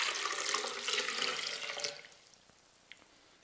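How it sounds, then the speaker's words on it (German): A liter of water poured into a blender for homemade oat milk, a steady splashing rush for about two seconds that stops abruptly, followed by a quiet pause and one faint drip or clink. "So, ich gebe als erstes den Liter Wasser in den Mixer rein."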